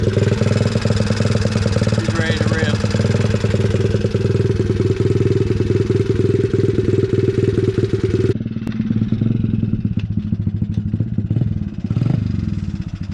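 Rebuilt Honda XR70 dirt bike engine running nearby with a brand new kit, a steady loud rapid small-engine putter throughout, briefly revving before settling back to a rough idle.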